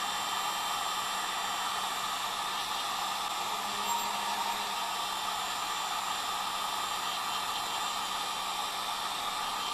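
Hot air blower gently heating a rubber grommet on a Yamaha YL1 tail light assembly, a steady, even hiss and whoosh of blown air, moderately close and unbroken, with no talking.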